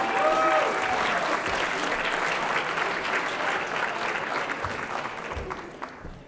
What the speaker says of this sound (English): Please give a warm round of applause to Eric